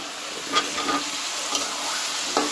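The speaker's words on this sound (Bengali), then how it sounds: "এবার আলুগুলো দিয়ে দিব।" Potatoes tipped into a hot pan of frying fish-curry base, sizzling steadily with scattered stirring scrapes and soft clatter, close and moderately loud.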